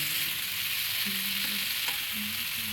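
Mixed winter vegetables, already part-cooked in a pressure cooker, are stirred in a pan for a vegetarian dish, giving a steady sizzle with soft scraping and a few brief tonal scrapes of the spoon, no voices.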